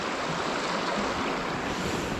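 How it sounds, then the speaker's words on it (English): Stream water pours into a small pool along a snowy winter trout stream, a steady broadband rush of flowing water filling the whole clip, close and continuous with no voices. "see the water coming in? That's a little pool right here."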